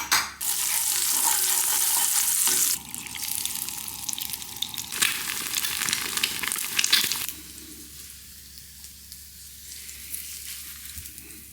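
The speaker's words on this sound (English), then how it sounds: "Now I'm gonna fry the eggs." Eggs fry in a hot pan with a loud, hissing sizzle that later settles into softer crackling and popping, heard up close with no talking.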